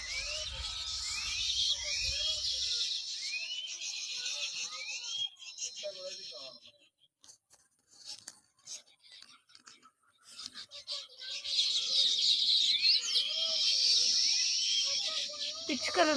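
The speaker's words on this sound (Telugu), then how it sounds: "పిచ్చుకల సౌండ్" Sparrows chirp around their nests in a tree, many overlapping sharp, high twitters forming a busy chorus that thins out in the middle before swelling again.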